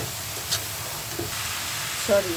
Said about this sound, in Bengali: এখন আমি হাই আঁচে আমি সুন্দর করে মশলাটা কষিয়ে নেব।